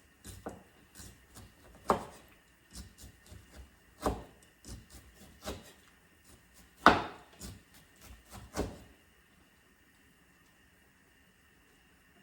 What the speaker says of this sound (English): Chop it into like a small slices.